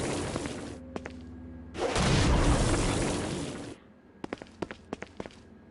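A booming blast roars for a couple of seconds in a game, surrounded by sharp clicks and pops before and after.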